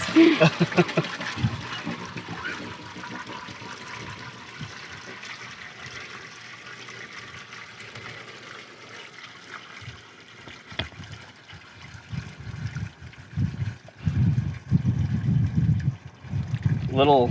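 Water rushing and trickling as an RV black tank is rinsed out, a steady wash that swells louder and more turbulent toward the end, with a person talking over it.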